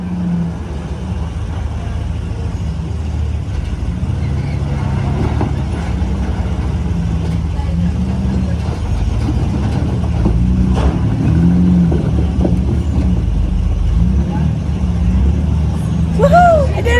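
A Jeep drives without the clutch being pushed in, its engine giving a continuous low rumble that stays steady and prominent throughout.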